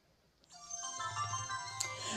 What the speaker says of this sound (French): Voilà, là, vous avez un premier bip.